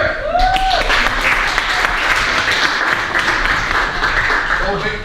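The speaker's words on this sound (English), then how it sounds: "round of applause for Eric." A workshop audience gives Eric a sustained round of applause, dense clapping filling the room steadily from start to finish with a brief voice near the beginning.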